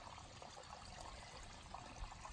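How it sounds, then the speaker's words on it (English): Stream water pouring and trickling into a dirty-water bag on a trail near a creek, a steady close gurgling flow with no pauses. "I'm going to fill up this bag, and this is a dirty water bag."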